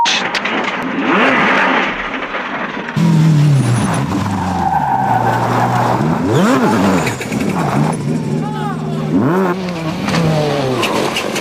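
A rally car spins on a stage of the Circuit of Ireland rally, its engine revving and bogging with loud tire scrabble and skidding, then pulling away, heard close with a faint voice underneath.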